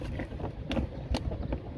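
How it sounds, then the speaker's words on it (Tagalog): Gusty sea wind during lure fishing buffets the microphone with a steady low roar, broken by a few sharper bursts. "Malakas kasi hangin eh"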